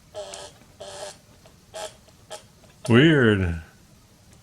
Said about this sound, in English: speaker oscillates like a buzzer